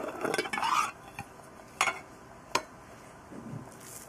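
Red lentils clatter and rattle in clean glass jars, with a burst of clinking and pouring at the start and then a few sharp taps and knocks against the glass, set apart by quiet stretches.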